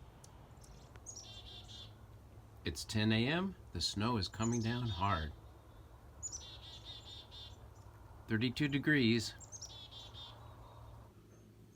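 Small birds chirp in short, repeated bursts close by outdoors while heavy snow falls near Sequim and Dungeness Spit, the calls clustered in two busy spells over a low steady background, with a person speaking at times.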